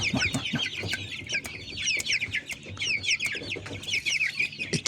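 Young one-month-old Adler, Jersey Giant and Leghorn chicks raised at home cluck and cheep in a steady, busy chorus, close and fairly loud, with no talking.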